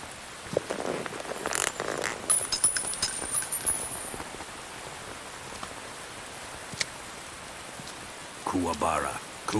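Steady rain falls in the video game Metal Gear Solid 3, a continuous hiss of droplets that fills the whole stretch, with a few brief louder bursts and faint voices mixed in.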